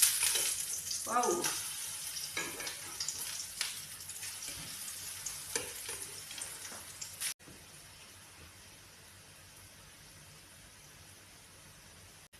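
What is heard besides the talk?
green onion pancakes frying in a pan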